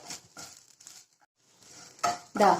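Spices for Kerala sambar are roasted and stirred in a pan, producing short scraping strokes and light sizzling in brief bursts, with a louder rasping stir at the end.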